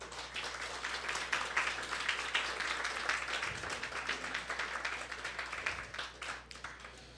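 An audience at a university science event claps steadily, a dense, continuous patter of many hands heard from within the hall, fairly even throughout with a slight swell partway through.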